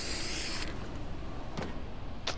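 A spray item in the video game Fortnite hisses in a loud burst that cuts off, followed by a couple of short fainter spritzes, with no talking.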